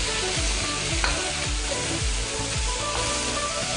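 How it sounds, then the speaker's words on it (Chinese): Minced beef stir-fried in a hot wok, a continuous loud sizzle broken by repeated scraping strokes of the spatula about every half second, close up and without speech. "再开始炒牛肉和这番茄"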